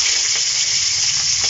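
Onion and green chilli fry in hot oil over cumin seeds, making a steady, loud, close sizzle with no pauses and no voices.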